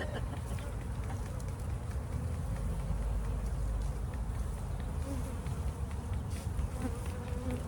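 Honey bees swarm around an opened farm hive dusted with powdered sugar, giving a close, continuous droning hum with individual insects passing near.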